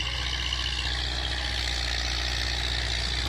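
A tractor engine in the video game Farming Simulator 19 strains while pulling a trailer, giving a steady, heavy, low drone that stays loud and constant with no pauses.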